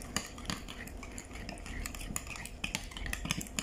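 A utensil stirs a cucumber and yogurt salad with lemon in a bowl, giving steady clinking and scraping strokes against the dish in a quick, uneven rhythm, close and clear with no talking.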